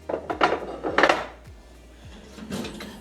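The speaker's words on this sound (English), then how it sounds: "Put a fork through them real quick. Let's stir these up a little bit." A fork scrapes and clinks against a hot pan while stirring chicken pot pie filling, with several close metallic scrapes in quick succession, a pause, then another clatter.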